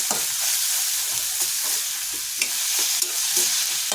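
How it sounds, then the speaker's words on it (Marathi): Chopped tomato cooks with onion in a pan for egg bhurji, giving a loud continuous sizzle with a few crisp stirring clicks and scrapes, near and without speech. "टॅमॅटोसुद्धा आपल्याला मेनून घ्यायचं आहे व्यवस्थित जेणेकरून भुर्जी चांगली टेस्टी होते"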